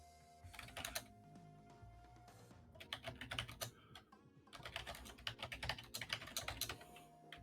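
Rapid bursts of typing on a computer keyboard, clacking in uneven clusters with short pauses over faint background sound, fairly close and moderately loud.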